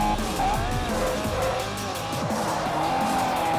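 A race car brakes hard in Forza Motorsport 4, its tires squealing continuously over a loud engine drone for several seconds at close range.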